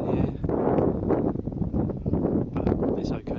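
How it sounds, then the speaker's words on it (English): Gusty wind buffets the microphone on a difficult mountain path in Anaga, Tenerife, in drizzly weather, a steady broadband roar with rising and falling gusts and no voices. "It's windy now"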